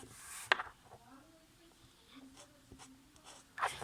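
A pen scratches across small paper sheets as they are colored in, with faint stroking and rubbing, a few sharper ticks and taps, heard up close and quietly.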